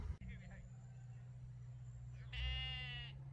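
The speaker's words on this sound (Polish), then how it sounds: "tam pasterz owiec z border collie zapędza je z pastwiska na pastwisko" Sheep bleat in a pasture where a shepherd and border collie drive the flock; a single drawn-out bleat rises near the end over a low steady hum, faint and distant.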